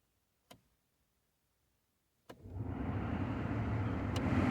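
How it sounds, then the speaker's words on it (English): A Ford Focus Mk2 ST225 heater blower fan: two sharp switch clicks, then the fan starts with a steady, close rushing whoosh of air that holds at a constant level, with no talking. "On my car you can hear that the fans don't kick in on the first and second settings, they only work on the third and fourth."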